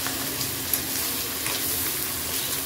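Prawns added to half-cooked frying potatoes for a coconut prawn dish, giving a continuous close sizzling hiss with faint light clicks and no speech.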